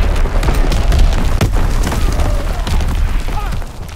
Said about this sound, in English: Azon bomb mission underway! Firing for full effect.